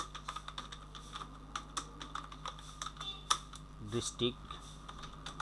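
Computer keyboard typing while a resume is written, a steady run of quiet clicking keystrokes with a few heavier taps near the end, under light background hum and a brief spoken word.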